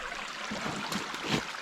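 Spring water runs steadily beside a hiking trail over sandy soil on the Appalachian Trail near Pine Grove Furnace State Park, a close, continuous gurgling trickle with a slight swell toward the end.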